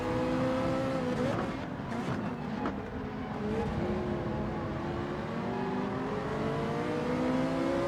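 Race car engines in Gran Turismo 7, with a Ferrari close by: loud, sustained engine whine rising and shifting in pitch as cars accelerate, overlapping tones from several cars, with no talk.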